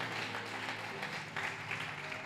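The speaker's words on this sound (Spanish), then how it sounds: "Aplauda 30 segundos." Church congregation applauding during a sermon, a thick, steady patter of many hands clapping at moderate volume, continuous and without speech.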